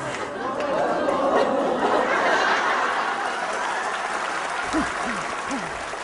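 A seated audience at an entertainer's talk claps in a steady, dense wash of applause, with chatter and a few chuckles mixed in near the end.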